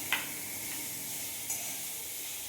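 Food sizzles steadily in a pan on a gas stove in a home kitchen, a constant bright hiss with a couple of faint clicks of stirring, close and alone.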